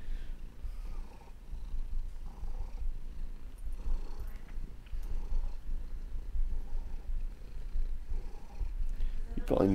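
Pet cat purring close by, a soft continuous low rumble with a rhythmic breathing pulse that runs throughout, faint and intimate, with a brief louder sound near the end.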